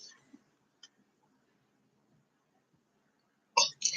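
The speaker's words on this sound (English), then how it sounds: "And I'm going to cough." A person with a sore throat makes a couple of faint throat sounds early on, then a pause, then a short close burst of coughing at the end.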